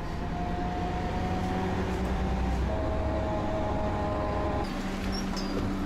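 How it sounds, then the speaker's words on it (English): An old, loud city bus in Vorkuta runs from the railway station toward the centre, a constant engine drone and rattling interior rumble with shifting tones heard from on board. "this bus is just so old and so loud"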